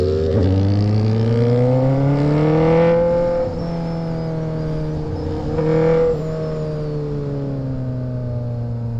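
A motorcycle engine fires up again after being shut off and revs hard in long rising and falling sweeps, loud and close, with no talking over it.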